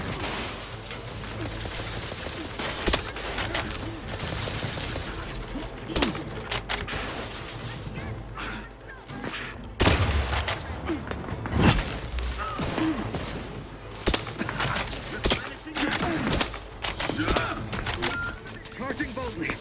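Sniper and other gunfire in a firefight in the video game Outer Worlds 2, bursts of cracking shots and sharp impacts scattered across a dense, busy battle mix, with a louder cluster of blasts around the middle.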